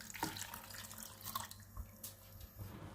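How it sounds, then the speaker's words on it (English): Water pours into a pan of pitted black cherries and caster sugar, a soft close trickle and splash with a few drips, steady throughout with no talking. "I'm going to add about half a cup of water in here."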